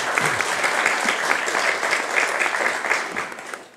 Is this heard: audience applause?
yes